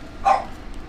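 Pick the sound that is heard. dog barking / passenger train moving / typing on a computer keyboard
dog barking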